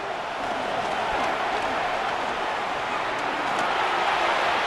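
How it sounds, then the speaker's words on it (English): A stadium crowd cheering before a third down in the Madden NFL 26 video game, a steady, dense roar that stays loud for the whole stretch. "This crowd into it now as we get to third down."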